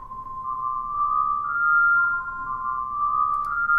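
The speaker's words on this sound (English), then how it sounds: "you're only hearing the reverb on the track" A synthesizer track heard only through its reverb, with the dry signal removed, plays as a smooth sustained tone that glides gently between close pitches, fairly loud and alone.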